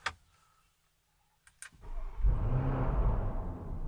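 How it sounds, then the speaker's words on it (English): A Lamborghini Urus V8 comes to life with a couple of clicks and a brief starter whirr, then catches into a loud, deep, steady idle roar up close. "And now I can start up the car."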